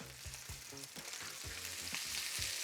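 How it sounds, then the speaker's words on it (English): Chicken pieces sizzle and spit steadily in a hot frying pan, a close, bright crackle with soft rhythmic knocks as they are moved around, and no talking. "you can probably hear they're sizzling quite well"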